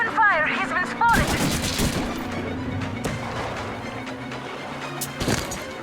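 Gunfire in Metro Exodus: a quick burst of shots followed by scattered loud bangs and impacts over a low rumble, with a shouted voice at the start.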